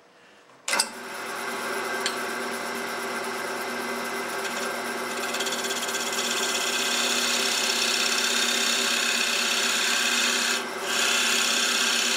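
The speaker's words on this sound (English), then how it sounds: "I can actually burnish the edge of the wood just a tad" Steady continuous rubbing and rasping of wood against a tool on a spinning lathe, a tool pressed to the edge of a hole in a non-round turning, loud and close, running alone without talk after a sharp onset.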